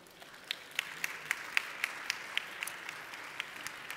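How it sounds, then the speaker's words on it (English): A few audience members at a sustainable development forum clap sparsely and faintly, a handful of distinct claps in a slow, uneven rhythm over quiet room noise. "Can we please give her a round of applause?"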